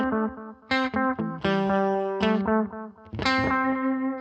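A delay effect with a dark, Bucket Brigade–style warble on its echoes: sustained distorted tones repeat and smear in wavering tails, phrases rising and fading with no voices over them.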